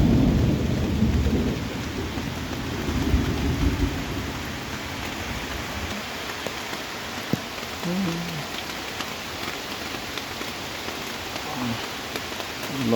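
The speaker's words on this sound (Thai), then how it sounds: "ฝนตก" Steady heavy rain pours down in a forest with thunder rumbling low through the first half, then a continuous broadband hiss of rainfall with a few scattered drops and faint knocks, no talking.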